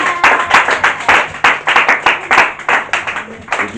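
A church congregation claps together in a steady, loud rhythm of sharp hand claps, close and continuous, with faint voices mixed in.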